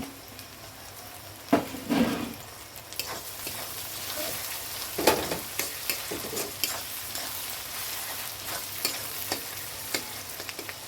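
Chopped tomatoes for a mutton curry fry in a pan with a steady sizzle, broken by several louder scraping stirs near the start and around the middle, then lighter intermittent stirring taps.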